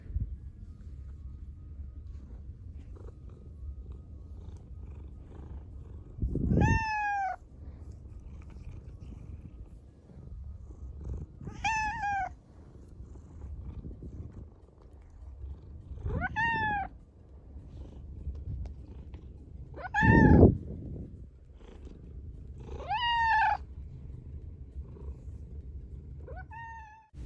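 A cat purrs softly and continuously up close, broken by about six clear meows spaced a few seconds apart, with no other sounds around.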